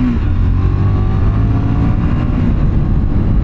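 A 2024 KTM 990 Duke motorcycle engine drones loud and steady while riding, with a rising tone as it pulls through a gear and heavy wind rush, no talk.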